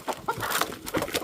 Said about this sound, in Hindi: तो यहाँ पे है मेरे पापा की मुर्गी।